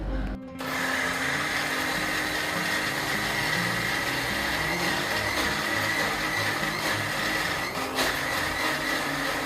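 A 2015 mixer grinder grinding dal whirs loudly and continuously with a steady high motor whine and rough grinding rattle, close by after a brief start.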